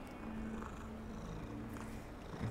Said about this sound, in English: We pet the kitty.